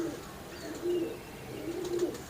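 Hercules-breed high-flying pigeons coo softly on a rooftop, with two low, rolling coos spaced about a second apart over faint background hiss.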